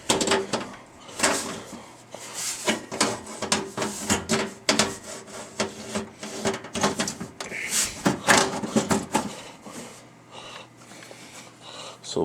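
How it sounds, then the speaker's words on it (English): The metal side cover of a Dell Inspiron 3847 desktop computer is put back on. Repeated scraping, sliding and rubbing sounds come in irregular bursts, close and fairly loud, with a few knocks and no talking. "So we'll go ahead and put the cover back on."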